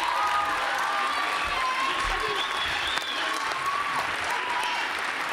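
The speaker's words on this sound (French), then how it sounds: "Je crois qu'on peut les applaudir très très très très très fort." An audience claps loudly for sixth-grade school students after their song performance in a community hall, a dense, sustained roar of applause with faint crowd voices mixed in throughout.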